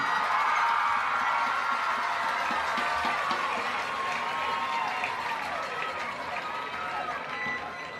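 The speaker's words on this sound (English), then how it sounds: "Let's give them all a big round of applause" A stadium crowd applauds and cheers for the homecoming queen at a Hereford Whitefaces versus Plainview Bulldogs high school football game, a broad, sustained wash of clapping that slowly fades.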